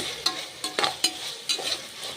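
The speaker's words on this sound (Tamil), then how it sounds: "இப்போ காய்கறிகளெல்லாம் ஆட் பண்ணிவிட்டு நல்லா கிண்டி விடுங்க" Vegetables for veg pulao sizzle in hot oil while a spoon scrapes and stirs the pan in several short, uneven strokes.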